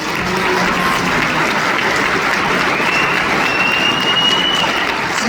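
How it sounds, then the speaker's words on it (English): Dense, steady applause from an audience at the 2025 Amarillo mayoral candidates forum, loud and continuous throughout with no break. "Again, let's give them a round of applause."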